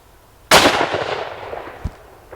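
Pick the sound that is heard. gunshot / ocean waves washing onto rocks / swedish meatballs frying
gunshot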